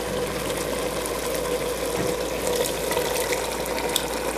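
Marinara sauce being poured into a sausage and meatball stew, a steady wet pouring and splashing rush that stays loud and continuous throughout.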